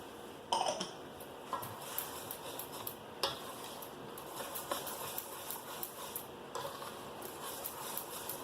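A utensil stirs egg-free pancake batter in a bowl, giving soft, close, rhythmic scraping with light clinks against the sides, and no one speaks.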